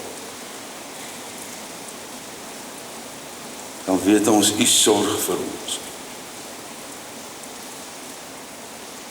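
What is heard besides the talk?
rain falling outside the church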